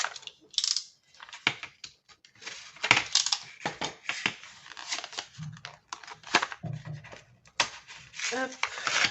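Packaging for a Custodeco haul item is opened with irregular crinkling, tearing and crumpling bursts, some close and sharp, scattered over a quiet background, with speech briefly present.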